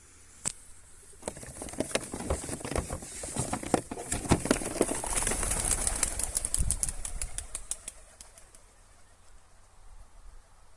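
A flock of young racing pigeons released for a morning training flight takes off in a burst of wing flapping that swells, stays busy for several seconds, then thins out to scattered flaps.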